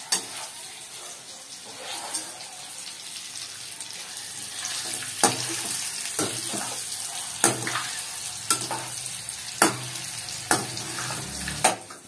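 Boiled eggs frying in a pan with salt and chili powder, a steady close sizzle with scattered sharp clicks of a utensil stirring and scraping, no voices.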